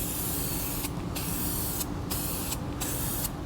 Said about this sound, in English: that is a nice big wide spray pattern